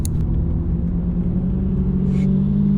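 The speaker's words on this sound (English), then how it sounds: "it was fun to watch these GTRs fly by me like I was standing still" Nissan GT-R cars on the Nürburgring Nordschleife give off a loud, steady engine roar and road rumble that holds through the whole moment, with no voices over it.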